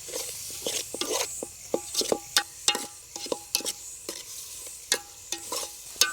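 Masala with chili powder being stirred in a pan for a village-style ponaganti leaf curry, with repeated sharp scraping strokes of the spoon over a light sizzle, steady and close, no talk.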